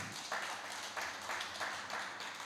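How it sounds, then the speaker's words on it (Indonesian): Congregation applause in a church service, a steady wash of many hands clapping at low level with a few swells, no voices over it. "Kasih tepuk tangan bagi Tuhan."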